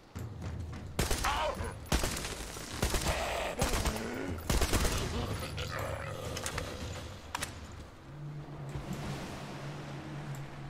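Loud, dense bursts of gunfire aimed at tanks in the post-apocalyptic shooter game Metro Exodus, heavy rapid shots clustered in the first half and thinning later, with a low engine-like drone underneath.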